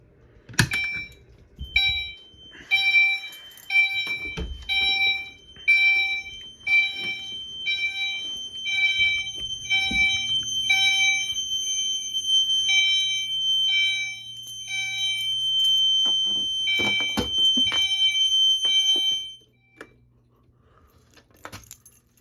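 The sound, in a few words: fire alarm set off by pull station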